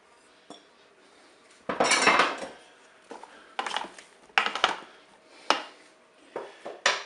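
Courgette and aubergine pieces tumble into a Cookeo multicooker pot, giving a few close clattering knocks and a longer scraping burst against the metal, with quieter gaps between.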